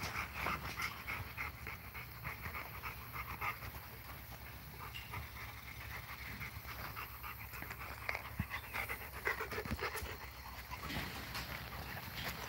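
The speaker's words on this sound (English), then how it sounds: "So we got some of the puppies you guys can see." Puppies pant rapidly and steadily at close range, breathy rhythmic huffs running throughout with occasional soft whimpers and no talking.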